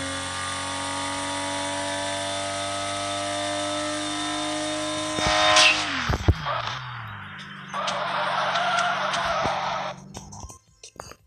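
A Nissan Skyline R34 in a video game race holds a high engine whine that drops sharply as it shifts down, then gives a rough, noisy burst and a lower rumble before cutting out.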